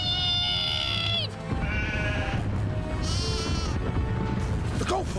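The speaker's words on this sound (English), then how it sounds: "if the sheep run out, there'll be no stopping them" A cartoon flock of stampeding sheep bleats repeatedly in overlapping calls over a rumbling, busy background, with some bleats loud and close and others fainter.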